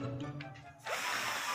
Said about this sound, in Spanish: para poder licuar bien necesitamos este vaso de licuadora y un taladro